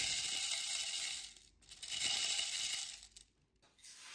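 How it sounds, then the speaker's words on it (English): Metal bicycle spoke nipples rattle and jingle as they are shaken in a wheelbuilding nipple shuffler, two loud bursts of dense metallic clinking with brief pauses, close and without talk. "the idea of a nipple shuffler is that you can dump a load of nipples in there"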